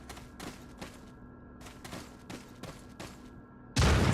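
Shotgun blasts in Resident Evil 4 while fighting through the mines, several evenly spaced booming shots over a quiet game background, ending with a sudden louder burst.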